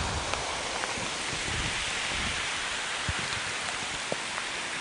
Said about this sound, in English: Now you can see the intensity of the rain bands picking up.